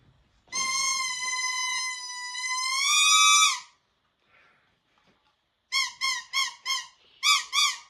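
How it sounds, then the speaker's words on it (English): Squeaky Bluey toy harmonica, a long wavering squeal held for about three seconds, then a pause and five short bright squeaks in quick succession, loud and close with no talk. "I hope you like my 2 Bluey harmonica squeaking toys"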